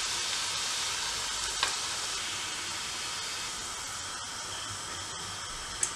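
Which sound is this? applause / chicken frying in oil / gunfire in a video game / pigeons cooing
chicken frying in oil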